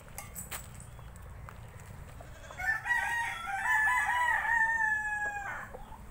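A derby fighting rooster lets out a loud, drawn-out crow at close range, rising and holding before trailing off, over a low steady background hum.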